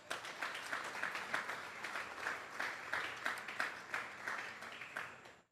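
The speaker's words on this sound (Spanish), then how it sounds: "Denle un fuerte aplauso al Señor." A congregation at a Sunday church service applauds the Lord, with many hands clapping in a faint, pulsing rhythm that rises and falls evenly before cutting off at the end.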